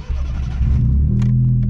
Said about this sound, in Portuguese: Vamos ligar o carro.